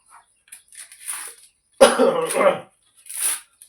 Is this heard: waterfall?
no